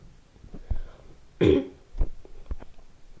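A single sharp, harsh cough bursts out midway, loud and close, with softer breathy noises and faint movement around it.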